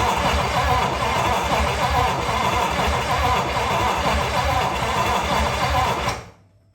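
A 1956 DeSoto engine cranking on the starter to test the fuel pump, a steady loud rhythmic churning that runs for about six seconds and then stops abruptly.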